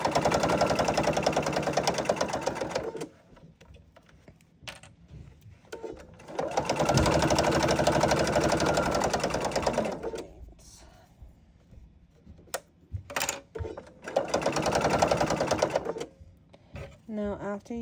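Sewing machine stitching around a potholder, three sustained runs of close mechanical whirring with short gaps between them, interrupted by brief clicks and handling noises.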